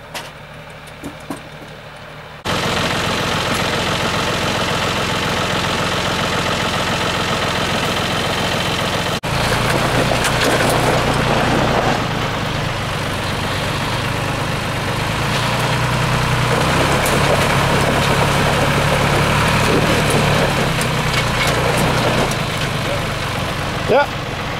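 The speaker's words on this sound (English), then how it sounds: "Try the engine." Engine idling on a vehicle arriving during a hitchhiking trip toward Omaha Beach, a steady low rumble running continuously through the clip, with sustained background noise and talk around it.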